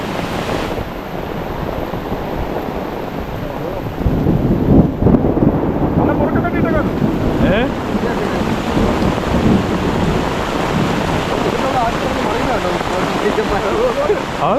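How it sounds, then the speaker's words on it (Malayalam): Steady heavy Kerala monsoon downpour with low rumbling thunder, growing louder partway through; faint voices and scattered sounds drift beneath the wash of rain. "ഇത് ഭയങ്കര മഴ കേട്ടോ"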